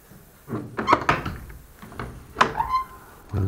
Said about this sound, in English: This door is locked